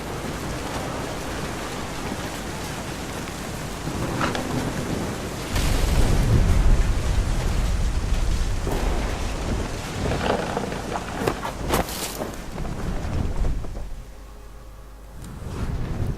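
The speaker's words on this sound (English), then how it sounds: "The thunder sounded much too close and full of angry power." Heavy rain pours and wind blows through the video game What Remains of Edith Finch, while deep thunder rolls and booms nearby in long surges before the storm eases.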